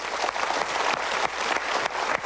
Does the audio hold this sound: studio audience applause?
yes